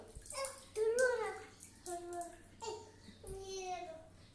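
Water splashes and trickles as a baby plays with it, with soft wet sloshing beneath the baby's repeated babbling and cooing, all close and moderately quiet.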